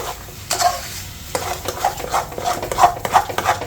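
A spoon stirs sugar into roasted flour in a pan for halwa or gond pak, giving close scraping and rustling with a soft sizzle and a quickening run of stirring strokes.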